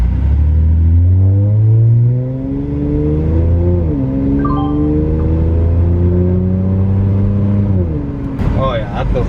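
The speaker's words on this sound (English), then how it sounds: "Gonna take it for another test drive." A lowered Acura TL on a test drive gives a steady, loud engine drone from inside the cabin, its pitch shifting as it shifts gears and accelerates, with a brief rise near the end.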